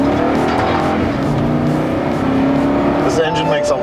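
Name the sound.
2018 Toyota Sequoia engine accelerating on on-ramp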